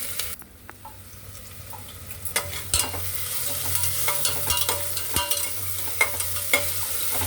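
Chilli powder and whole red chillies fry in oil, a continuous close sizzle broken by frequent stirring scrapes and small crackles.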